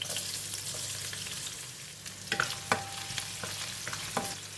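Spices, garlic and shallots fry in hot oil for a fish head curry, a constant close sizzle broken by a few sharp stirring clinks and scrapes near the end.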